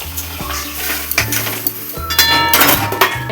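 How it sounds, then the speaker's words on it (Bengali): Water hits a pan of frying spices with a bitter gourd and potato curry, a burst of hissing sizzle and bubbling, with a few metal clinks of utensil on pan and no speech. "এবার এর মধ্যে জল ঢেলে দিতে হবে"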